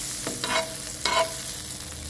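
Paneer sautéing in melted butter in a pan, a steady close sizzle with two brief scraping stirs, no voices.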